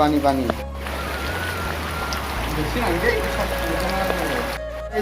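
Steady downpour of heavy rain during a flood at a house, with a dense patter on surfaces, and a person talking over it at moments.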